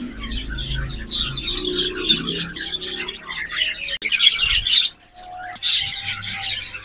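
Budgies in a breeding setup keep up dense, busy chirping and chattering close by, with overlapping tweets and trills and a few brief low knocks and thumps among them.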